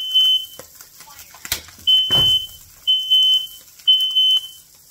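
A smoke alarm beeps in repeated long, shrill tones, about once a second, set off while frying Spam, with a clatter and sizzling noise in between.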